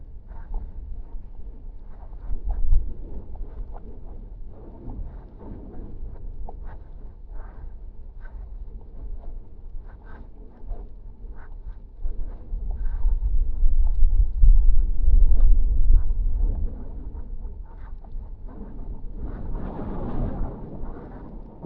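Wind blows from the south along the coast, buffeting the microphone with low rumbling gusts that swell and fade, strongest in a long surge toward the middle.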